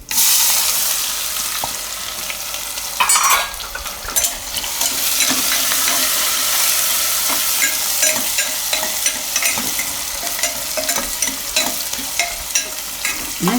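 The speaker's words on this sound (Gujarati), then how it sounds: "થોડીક વાર આમાં પકાવી લેવાનું ડુંગળીને," Onion sizzles steadily in hot oil in a pan with red and green chillies, curry leaves and asafoetida, cooking for a Gujarati rice dish. The close frying noise is broken by scraping stirs.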